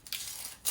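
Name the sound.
peeling an onion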